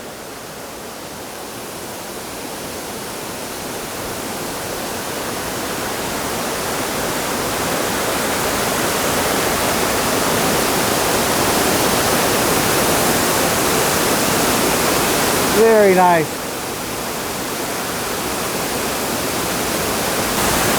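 A waterfall in Ithaca, New York roars close by as a continuous broadband rush that swells slightly over time; a brief voice cuts in near the end.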